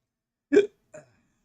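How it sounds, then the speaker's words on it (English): Two hiccups sound close and clear against near silence. The first is sharp and louder, and a softer second follows about half a second later. "I got the hiccups, I think."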